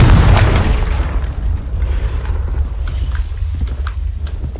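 A Confringo blasting spell erupts in the Hogwarts Legacy game as a loud, deep boom, with a sharp initial burst fading into a long rumbling roar that lingers under steady low noise.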